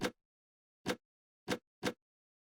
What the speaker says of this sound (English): I think that was the sound of the gas grenades dropping on the floor